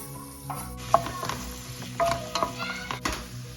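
Chopped onions and fennel seeds fry in oil in a pan, giving a steady close sizzle, with a few scraping stirs and light clinks of a utensil against the pan.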